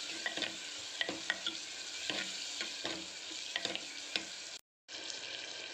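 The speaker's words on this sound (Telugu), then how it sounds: "టమాటాలు వేసుకొని ఫ్రై చేద్దాం." Tomatoes fry in a pan with curry leaves and salt, a soft, steady sizzle under repeated quick scraping and tapping of a stirring spoon, close by, cut by a brief silent gap near the end before the sizzle resumes.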